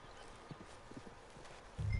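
Quiet horse hooves clip-clop at an uneven walking pace in Red Dead Redemption 2, soft and moderately close, ending in a sudden low rumble.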